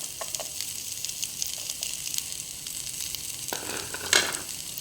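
Carrots hitting a pan of frying onions, a steady close sizzle with light stirring scrapes and a brighter clatter near the end.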